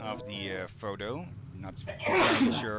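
Someone speaks briefly, then a single loud, sharp sneeze bursts out near the end, close to the microphone.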